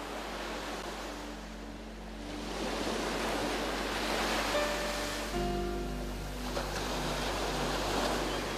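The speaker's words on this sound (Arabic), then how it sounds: "إلى الموج حين يلامس عنوانه الأزلي منذ نعومته ومنذ انتمائه للصخر" Sea waves break on rocky Algerian shoreline, a continuous surging wash rising and falling in swells, with wind noise and faint low tonal hum beneath, no voices.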